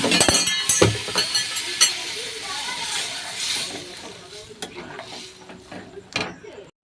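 Spicy semolina (jhal suji) being stirred in a pan, with scraping and clinking strokes and a light sizzle close up, while someone talks over it.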